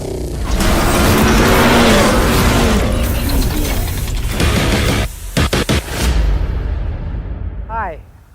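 A 1968 Plymouth Sport Fury convertible drives up, its loud engine rumbling close by, then a few sharp mechanical thumps, with voices in the background.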